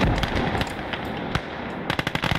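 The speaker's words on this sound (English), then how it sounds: "This MG is amazing though, being that it's radio controlled. Absolutely decimates targets." Radio-controlled machine gun in the World War II strategy game Call to Arms: Gates of Hell fires in loud rapid bursts, with a brief pause near the middle before another dense stream of shots close up.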